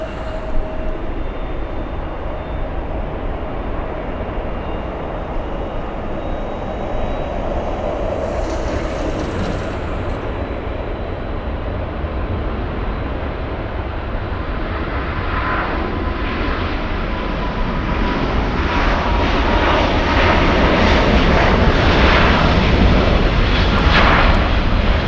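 A Delta jet airliner on runway 24 left at LAX makes a steady, fairly loud engine roar that gradually thickens and grows louder over the span, heard alone without voices.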